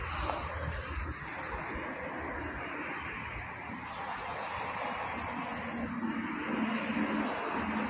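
A battered radio-controlled model airplane flies overhead, its engine a steady distant whine and buzz that holds fairly level throughout, with no voices over it.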